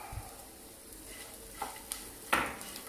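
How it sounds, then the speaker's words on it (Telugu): Crispy sweet corn tossed with coriander in a pan over high flame, with a faint sizzle, a few soft scrapes and a sharper clink of the spoon against the pan near the end. "హై ఫ్లేమ్ మీద బాగా కలుపుకుంటూ"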